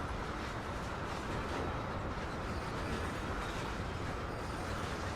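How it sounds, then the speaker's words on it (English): A long train rolls on rails beside a working locomotive, producing a steady, even rumble and rail noise that is fairly faint and continuous, with no talking. "both these trains are"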